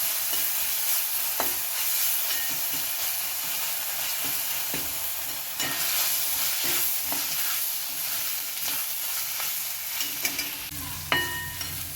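Garlic-ginger paste and onions sizzle steadily in a frying pan, a constant close hiss broken by occasional scraping stirs and a few light knocks of the spoon.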